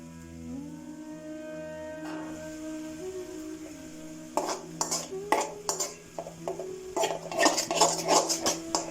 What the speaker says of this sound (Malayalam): ഇനി ഇതിവിടെ അങ്ങോട്ട് മാറ്റി വെച്ചിട്ട് ഇതിലേക്ക് നമുക്ക് 2 മുട്ട സ്ക്രാമ്പിൾ ചെയ്യാം